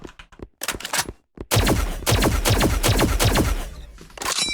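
A plasma rifle in the game Project Speedkills fires a quick run of sharp, evenly spaced energy shots that pound close and loud after a few scattered single shots and brief pauses.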